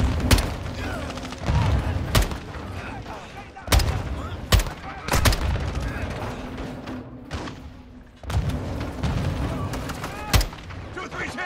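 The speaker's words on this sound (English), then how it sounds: "Incoming! Oh, Jesus. Oh! grenades!" Modern warfare combat in Call of Duty: Modern Warfare II, with heavy grenade blasts and bursts of gunfire booming repeatedly, several loud sharp detonations and rumbling explosions close by, with shouting voices mixed in.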